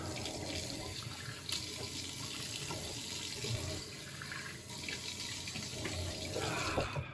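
A Merkur Progress safety razor rinsed under a running tap, a steady splashing water stream filling the whole stretch at moderate loudness with no talk.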